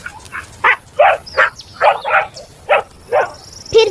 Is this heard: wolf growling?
yes